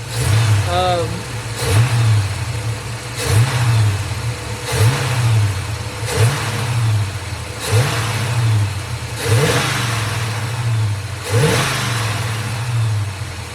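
A Chevrolet C10 truck engine held at part throttle, loud and close, pulsing in repeated surges roughly every one and a half seconds with a steady mid-range drone.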